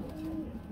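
A pigeon's low, soft coo at a pigeon market, heard faintly and briefly in a single short utterance.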